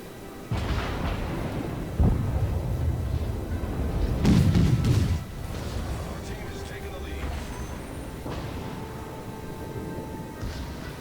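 Naval gunfire in World of Warships: deep booming salvos and rumbling blasts, the strongest around the middle, with a speaking voice over the continuous low roar of battle.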